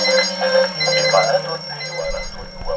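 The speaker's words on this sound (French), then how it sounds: "Comme tous les jours, mes réveils ont sonné." Several alarm clocks ringing together in a bedroom on waking, steady electronic beeping tones layered over one another, loud and close throughout with a shift in pitch partway through.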